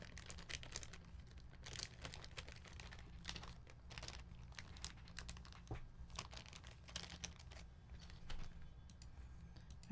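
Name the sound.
plastic bag crinkling as spacebar keycap is put in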